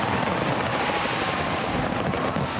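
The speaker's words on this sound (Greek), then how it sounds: "Η περίφημη όπερα του Σίδνεϊ φωταγωγήθηκε από χιλιάδες πυροτεχνήματα που δημιούργησαν ένα μοναδικό σόου." New Year fireworks over the Sydney Opera House, a dense, continuous rumbling roar of many bursts merging together, loud and unbroken throughout.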